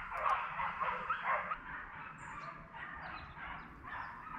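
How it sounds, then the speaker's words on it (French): Hunting dogs baying in chorus during a wild boar and roe deer drive hunt; a pack of overlapping distant howls and yelps that rise and fall continuously, faint and far off in open country. "Bravo, belle menée des chiens."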